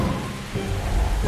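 Heavy rain pouring steadily with a low rumbling undertone, loud and close, no voices.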